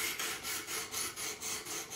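Knife edge on a Buck 110 being refined across diamond sharpening stones on a Work Sharp Pro Precision Adjust, a close, steady rasping rub in even back-and-forth strokes, about eight passes, with no voices.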